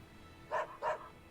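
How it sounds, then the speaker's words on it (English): Two quick dog barks close together, short and fairly faint, from a dog in the video game Tales of Berseria. "A dog."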